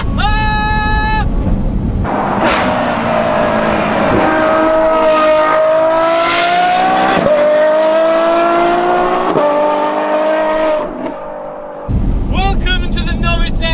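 A Ferrari F12 Novitec N-Largo with nearly 800 horsepower and a titanium straight-through exhaust revs loudly and close, its engine note holding and stepping through rising and falling pulls for about nine seconds before cutting off.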